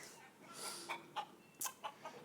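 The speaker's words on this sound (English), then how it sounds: "even in a city, people do have live chickens" Live chickens kept in Chongqing, China, cluck in a quick series of short, fairly close calls over a soft, steady background.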